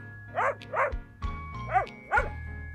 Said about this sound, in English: Did you think it was a dog?